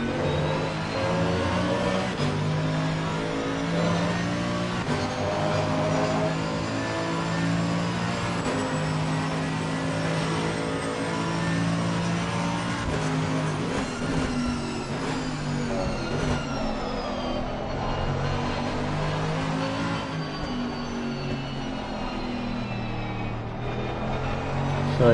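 Race car engines drone continuously at Silverstone in a sim racing game with an AMG Mercedes among the field, a steady layered mechanical hum with rising and falling revs and shifting tones, while a commentator talks throughout.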